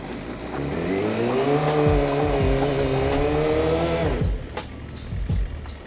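A motorcycle attempts a burnout, its engine revving hard in a loud, sustained roar with tire squeal over it. The sound then cuts back sharply to a lower, rougher idle.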